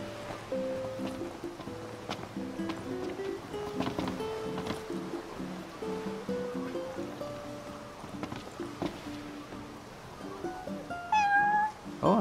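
A cat meows repeatedly in the video game Final Fantasy XV, a series of short, moderately loud mews over soft ambient game sound, with one higher, longer yowl near the end.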